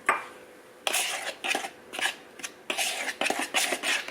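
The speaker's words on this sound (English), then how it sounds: "I'm going to add my baking soda and my baking powder and my salt. Just give that a quick mix" A utensil quickly whisks flour, baking soda, baking powder and salt together in a bowl for muffins, giving bursts of clinking, scraping strokes in an uneven rhythm with brief pauses between them.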